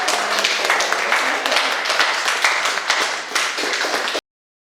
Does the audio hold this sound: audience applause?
yes